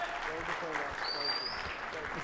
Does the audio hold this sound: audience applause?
yes